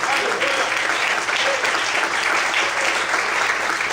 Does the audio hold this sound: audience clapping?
yes